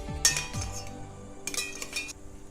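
A metal spoon clinks against a bowl while mixing homemade mayonnaise ingredients, giving a few faint taps and scraping clinks close by in a quiet kitchen.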